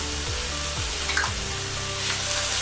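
Garam masala, ground coriander and turmeric sizzle in a cast iron pan with softened onion for a lamb keema curry, a steady close frying hiss with a few faint scrapes.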